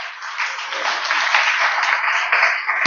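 A church congregation claps together for the Lord at an evening Passion Week service, a dense continuous round of applause filling the room without break.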